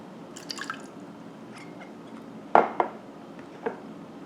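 Apple cider vinegar for a cucumber salad dressing pours and drips into a bowl in short splashy bursts, with a sharper plop midway and a few soft clinks, close and fairly quiet.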